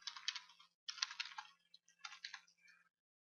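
Typing on a computer keyboard: three quick bursts of close, crisp key clicks with short pauses between, quiet and with no talking.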